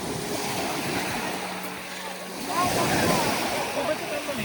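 Sea waves wash up a beach on a cold morning, a continuous broad surf wash with wind buffeting the microphone and a swell building louder in the second half.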